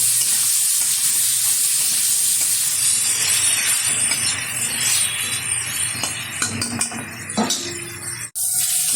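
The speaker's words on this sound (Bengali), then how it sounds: "টুকরো করে রাখা আলু আর সজনে ডাঁটা ভালো করে ধুয়ে পরিষ্কার করে নিয়েছি একটু নেড়ে চেড়ে নেবো তেলের সাথে" Cut potatoes and drumsticks, the vegetable, are stirred in hot oil in a pan, giving a loud, dense sizzle with scraping and clinking from the stirring utensil, and the noise cuts off abruptly near the end.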